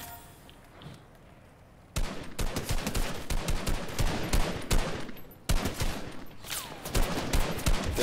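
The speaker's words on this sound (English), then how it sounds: "Another guy sniping from over here. I wonder if he can shoot through that tree." Gunfire from a Fortnite match, a dense run of sharp shots and bursts that starts abruptly after a quiet lead-in and keeps firing loud and close, briefly pausing before resuming.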